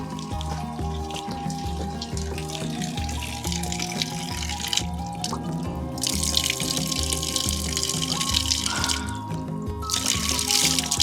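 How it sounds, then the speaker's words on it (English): Cool mountain water runs steadily from a tap or spout on a forest roadside near the Albanian village of Frashër, a continuous close splashing that carries on throughout and grows slightly louder and brighter partway through. "Cool mountain water."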